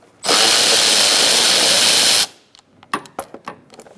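A power tool with a 10mm socket backs out bolts during AC condenser removal on a 2002-2006 Toyota Camry 2.4. One loud, continuous whir lasts about two seconds, followed by a few light clinks and knocks.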